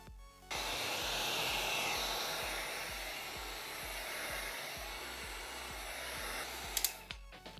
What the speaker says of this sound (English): I have a heat gun.